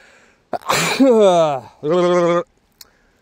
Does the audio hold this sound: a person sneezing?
yes